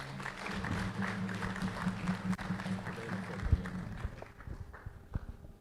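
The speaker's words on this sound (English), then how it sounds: "Let's receive him with a clap, please." An audience at a formal public health lecture in Ghana claps to welcome a performer, a steady wash of applause from a moderate distance that thins and fades toward the end, with faint voices beneath.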